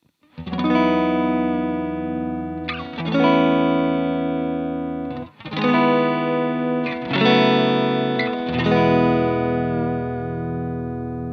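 A clean electric guitar rings out sustained chords through a NUX Tape Echo delay pedal, loud and close, each strum blending into echoing repeats with no talking.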